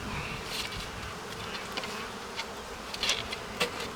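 Honey bees swarm around an open beehive in a dense, steady buzzing drone close by, with a few brief knocks and rustles near the end and no voices.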